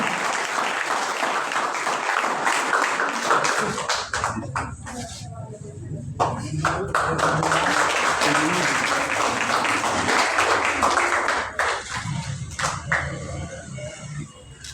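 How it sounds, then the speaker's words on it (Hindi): Loud applause from the crowd at a university department award ceremony, welcoming a prize-winning student, sustained dense clapping that dips briefly midway and then swells again. "एक बार जोरदार तालियों के साथ स्वागत"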